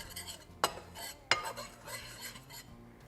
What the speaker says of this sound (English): I'll just go ahead and mix those dry ingredients together